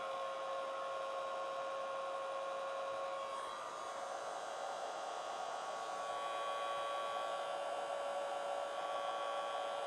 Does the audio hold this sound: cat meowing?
no